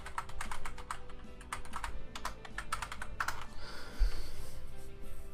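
Quiet clicking of a computer keyboard, fingers tapping out a short burst of quick keystrokes with no talk.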